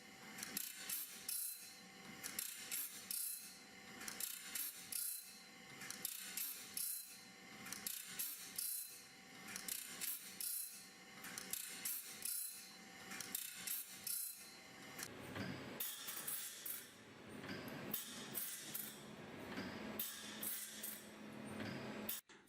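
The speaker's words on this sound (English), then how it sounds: "This is done using specialized sharpening machines that can grind the tooth profiles to precise angles" A specialized saw blade sharpening machine grinds the tooth profiles of a steel saw blade in a factory, a steady chain of rapid metallic clicks and rasps pulsing rhythmically, loud, close and unbroken, with no speech.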